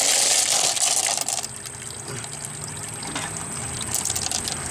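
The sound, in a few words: water washing rock tumbler barrel and tumbled rocks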